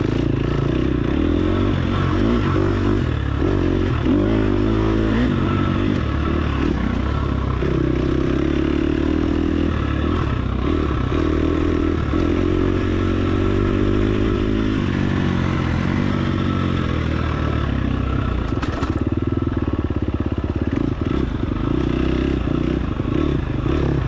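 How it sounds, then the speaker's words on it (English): A dirt bike motorcycle rides a hot, dusty ranch track, its engine loud and close throughout, rising and falling with throttle and gear changes amid rattling clatter from the rough ground. "I let the bike drift way outside the line."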